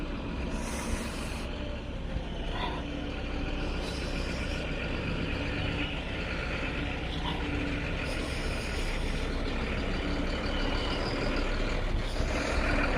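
Leyland truck with its engine running, a steady loud low rumble throughout with brief higher hissing bursts, heard without talk.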